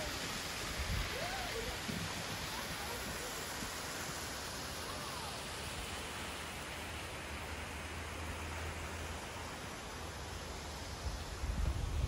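Steady rushing water from a waterfall, a continuous broadband roar that holds even and fairly close for the whole stretch, with no talk over it.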